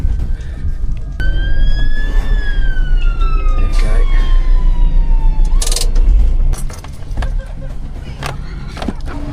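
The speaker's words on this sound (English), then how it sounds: "I can hear the fire engine in the background making its way up." A fire engine siren wails, sweeping up and down over loud, rumbling traffic noise, rising and falling in pitch before fading beneath clattering street sounds.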